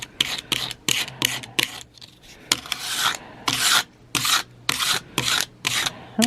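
Sandpaper rasps against a painted wooden post in repeated close back-and-forth strokes, each scrape a short loud burst separated by brief gaps.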